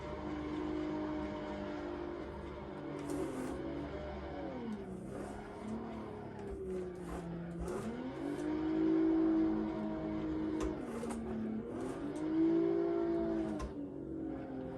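A drifting car engine in Assetto Corsa revs and drops repeatedly as the throttle is feathered on and off, a sustained loud drone with swooping pitch changes and brief tire squeals.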